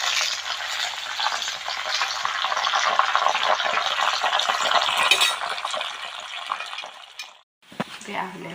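Homemade raw banana chips frying in hot oil, a dense steady sizzle that runs loud for about seven seconds, briefly cuts out, then returns more faintly with a few utensil clinks.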